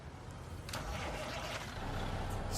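A Peterbilt 389 truck engine in American Truck Simulator cranks and fires up, settling into a low, steady rumble that stays quiet and even throughout, with no talk over it.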